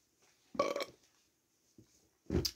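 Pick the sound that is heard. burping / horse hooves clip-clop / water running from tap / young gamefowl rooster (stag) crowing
burping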